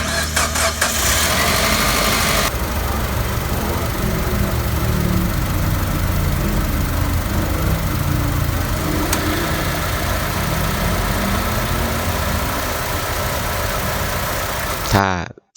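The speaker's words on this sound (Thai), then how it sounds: "เดี๋ยวมาฟังเสียงเครื่องกันก่อนครับผม" A car engine runs and idles steadily for a long stretch, its rough rumble shifting a little in pitch before cutting off abruptly at the end.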